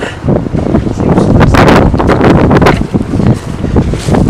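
Loud, steady wind buffeting the microphone, a broadband rumbling roar with gusty surges throughout and no clear voices, outdoors in cold weather around 5 degrees.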